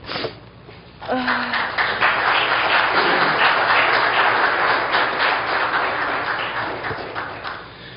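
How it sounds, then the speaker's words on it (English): A congregation at a funeral service applauds: sustained, loud, dense clapping that swells in after a brief pause and holds steady for several seconds before slowly tapering off. "Yes, you deserve the applause"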